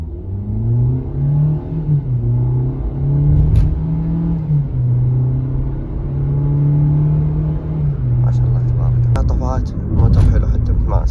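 A car on a test drive, its engine droning and rising in pitch as it revs, close and fairly loud, with someone talking over it and some rustling toward the end.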